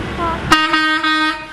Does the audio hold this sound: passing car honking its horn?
yes